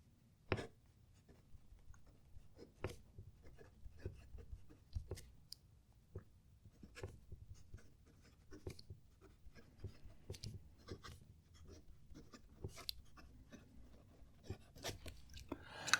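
A fountain pen scratches quietly across paper in short, irregular strokes, with faint taps and scrapes between them in a quiet room.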